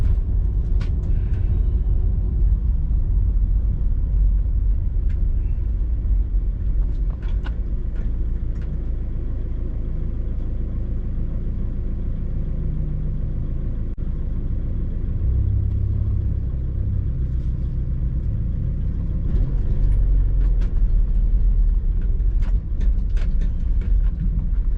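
A Volkswagen Golf R running methanol injection roars steadily on a dyno, a deep, loud, continuous engine rumble held for a long pull, with faint clicks and clatter from the surroundings.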